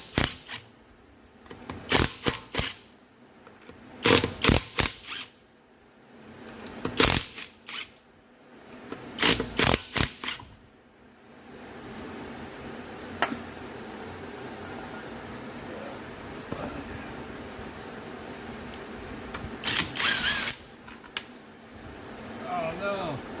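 An impact wrench with a 19 mm socket removes lug nuts from a 2019 Honda CR-V wheel, firing in several short, loud bursts at close range, followed by quieter workshop handling noise.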